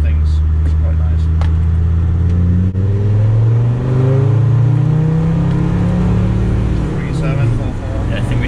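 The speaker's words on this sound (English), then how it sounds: "revving a diesel is quite nice for it" Land Rover Td5 diesel engine in a Defender revving up and settling, a steady loud low drone with a rising pitch sweep, heard close and continuous with faint voices in the background.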